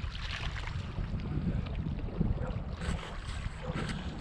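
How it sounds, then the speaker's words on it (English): Gusty wind buffeting the microphone beside water on a cold early-spring day while fly fishing for crappie, a rumbling low roar that rises and falls in waves, no talking. "It's getting really windy and cold"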